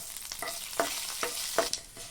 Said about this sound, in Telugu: వీటన్నిటిని త్వరగా వేయించుకోవాలి